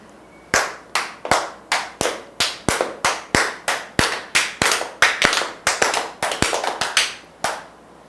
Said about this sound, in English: There were 9 claps.